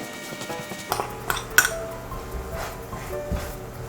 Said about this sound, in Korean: 양념장과 대파를 넣어 볶아줍니다